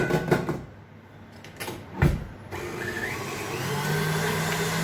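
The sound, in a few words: electric mixer beating cold mascarpone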